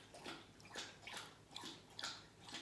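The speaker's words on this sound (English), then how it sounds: "My dog drinks so much water and is so loud." Molly the dog laps water loudly and close by, producing rhythmic wet slurps and splashes roughly every half second, with no talking.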